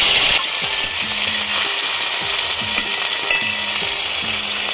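Ginger and green chilli paste with asafoetida sizzling loudly in hot oil while making kachori filling, a dense continuous crackle with repeated stirring scrapes through the pan.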